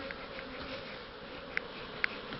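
Honeybees buzzing in a dense, steady drone close by at a hive during honey harvesting in Kurtköy, Yalova, with a couple of brief sharper clicks near the end.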